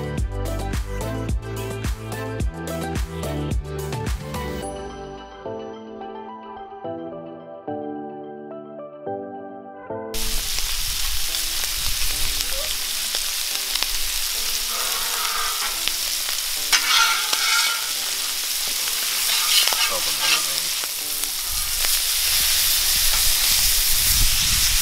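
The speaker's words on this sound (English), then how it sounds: "Go ahead and melt the butter on this side of it." Moose tenderloin frying in a generous amount of melted butter, a steady close sizzle and crackle with stirring; music plays over the first ten seconds before the frying dominates.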